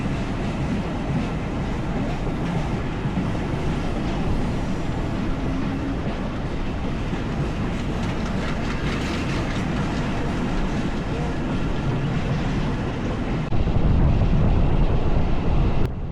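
A passenger train bound for Mongla in Bangladesh, near Katakhali station, rumbles and rattles steadily with clattering wheels and broadband wind roar throughout, growing louder near the end.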